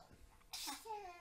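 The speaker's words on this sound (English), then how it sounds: "That was a big sneeze." A single big human sneeze, a sharp burst followed by a short voiced tail, fairly quiet and close.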